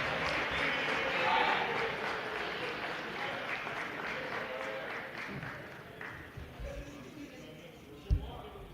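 Basketball crowd in an arena applauding a senior player, steady sustained clapping and cheering throughout, with a louder burst near the end.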